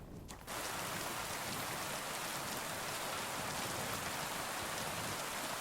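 Heavy rain pours in Kingdom Come: Deliverance II, a dense, loud, steady hiss of drops on surfaces that starts abruptly after a brief quiet moment and continues without letup.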